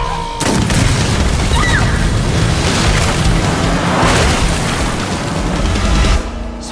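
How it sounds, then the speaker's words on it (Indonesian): A bazooka fires and explodes during an armed rescue, a loud, sustained blast with heavy rumble and debris noise lasting several seconds before cutting off. "ia pun langsung menembak basoka sebagai akses untuk menyelamatkan mereka"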